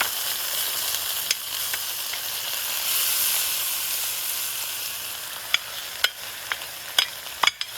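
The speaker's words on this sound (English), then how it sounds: "Let that get nice and hot. Then we're going to add the tomatoes." Tomatoes frying in hot oil in a pan for stir-fried eggs and tomatoes, giving a steady loud sizzle that slowly fades, with a few sharp clicks of a utensil near the end.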